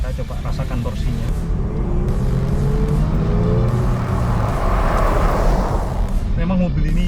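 A 2014 Range Rover Sport Autobiography with a V6 engine pulls away under acceleration, its steady engine drone and road noise running continuously and close beneath ongoing talk from people inside the cabin.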